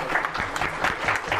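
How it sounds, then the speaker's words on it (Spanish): Audience at an academic event on water policy giving brief, moderate applause, a short burst of steady clapping from a seated crowd. "le damos un aplauso, por favor"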